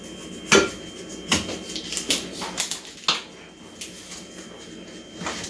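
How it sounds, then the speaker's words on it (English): Spoon clinking and scraping against a bowl while half a block of cream cheese is mixed with brown sugar, a series of sharp, close metallic knocks at irregular intervals with quieter scraping between. "Mix the half a block of cream cheese with some brown sugar."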